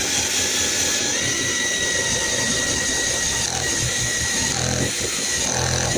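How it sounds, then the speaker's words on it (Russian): A drill fitted with a hole saw, its centring bit removed, cuts into a plastic ceiling strip, giving a close, loud, continuous whirring grind with slight shifts in tone. "Изъяв направляющее центрирующее сверло из коронки, подрубаем вот так реечку вот эту вот."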